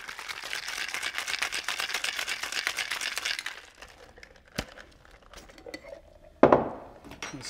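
A gin fizz is shaken hard with big ice cubes in a cocktail shaker, giving a fast, rhythmic rattle of ice for about three seconds, then quieter handling and a sharp clink of metal and glass near the end.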